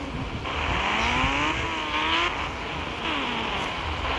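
A motorbike engine in a video game revs continuously, its pitch rising and falling in sweeping waves, loud and steady throughout with no talk.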